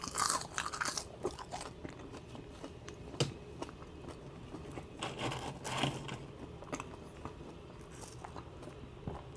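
Crispy Wendy's fresh-cut-style fries crunch close to the mic as they are bitten and chewed, giving irregular snappy crunches over several seconds with no talking.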